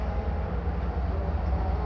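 Vande Bharat train running toward Delhi, heard from inside as a loud, steady low rumble and rolling hum with no distinct clacks or voices.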